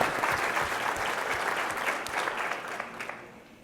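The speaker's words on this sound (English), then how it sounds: "give them a round of applause" Audience at the Agents of Change Summit 2023 applauds steadily, a dense wash of many hands clapping that carries evenly throughout and fades slightly at the end, with no talking over it.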